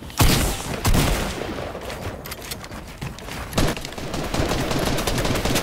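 Gunfire in Fortnite Season 5 while the player is under attack: loud bursts of shots, several sharp cracks and rapid volleys spread across a few seconds over constant in-game background noise, no talking.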